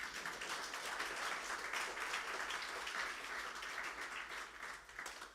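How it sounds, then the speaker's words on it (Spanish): Sustained applause from an audience at a Christian presentation on the last week of Jesus, a dense, steady wash of many hands clapping that holds its level for several seconds, tapering slightly at the end, with no talking. "Si te animas a dar un aplauso."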